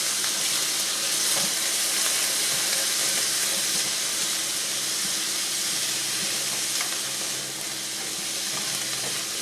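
Chopped red tomato and minced onion fry in a hot pan, giving a steady, close, hissing sizzle that holds evenly throughout with no talk.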